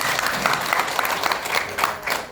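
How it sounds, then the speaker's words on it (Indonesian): An indoor audience claps together at a business gathering in Indonesia, a brief burst of dense, lively applause that stays steady throughout. "Tepuk tangan untuk kita semuanya."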